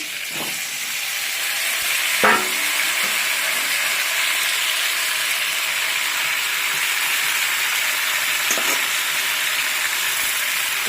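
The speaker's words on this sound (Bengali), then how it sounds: "কাঁকড়াটা আমার ভালোভাবে ভাজা হয়ে গেছে" Crab fries in a pan of hot oil outdoors, giving a long, even sizzle and hiss up close, with a couple of clattering stirs near the start and again later.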